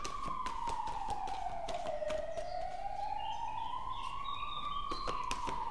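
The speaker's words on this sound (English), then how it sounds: "There's our siren for this reading." A wailing emergency siren rises and falls slowly at a distance, steady over faint background ticks and street hum.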